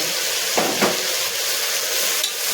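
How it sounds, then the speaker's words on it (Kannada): Tempering spices crackle and hiss in hot sesame oil, a dense, even sizzle up close with a couple of soft stirring knocks. "ಒಗ್ಗರಣೆಗೆ ಹಾಕಿ ಒಂದು ನಿಮಿಷ ಹಂಗೆ ಫ್ರೈ ಮಾಡ್ಕೋಬೇಕು ಎಳ್ಳೆಣ್ಣೆ ಸ್ವಲ್ಪ"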